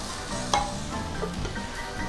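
Food sizzles and crackles steadily in a hot pan while a utensil stirs and scrapes, with a few sharper clinks along the way.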